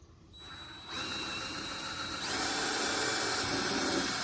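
A power drill bores a hole for a light in a 3D printed 1972 Chevrolet model body, with a steady whirring motor that starts after a short pause and grows louder partway through, running continuously and close by.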